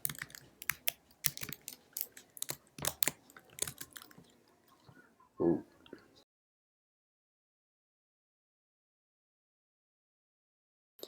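Keys clatter on a computer keyboard while code is written, a quick irregular run of close clicks that ends abruptly and is followed by silence.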